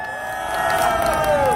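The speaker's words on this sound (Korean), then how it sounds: "여러분 뜨거운 박수 부탁드리겠습니다." Crowd at a political rally cheering and applauding as a speaker is welcomed, a swelling mix of shouts and clapping that grows louder midway, with a faint whistle-like tone gliding downward.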